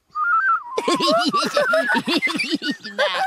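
A cartoon character whistles a cheerful tune on a canal boat, a run of bright bouncing notes starting with a single held pitch, loud and close, with a short spoken exclamation.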